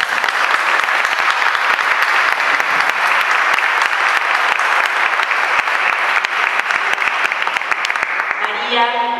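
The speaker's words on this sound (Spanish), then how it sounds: "un aplauso" Sustained, loud applause from an audience welcoming women entrepreneurs from Misiones at a business event, steady clapping throughout that fades near the end as a voice begins.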